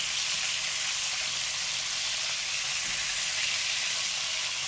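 Fish fries golden in hot oil, a dense, steady sizzle and hiss that fills the whole stretch without pause, close and loud, as the pieces are flipped; no one speaks.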